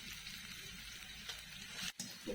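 Steady crackling sizzle of fried onion with garlic and ginger paste frying in a hot pan, close and continuous, with a brief clatter near the end.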